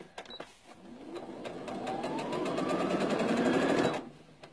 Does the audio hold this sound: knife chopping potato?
no